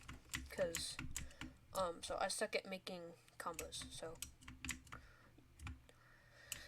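Computer keyboard typing and clicking rattles close by in quick irregular bursts while someone talks over it throughout.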